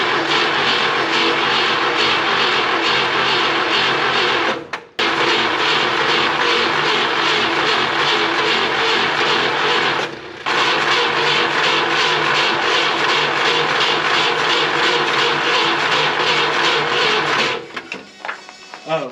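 A barn-found 1972 Ford F100 pickup with a failing carburetor runs at a loud, steady roar close by. It cuts out briefly twice, then sputters and dies near the end.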